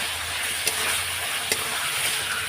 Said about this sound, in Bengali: সব দিয়ে এখন কষিয়ে নেব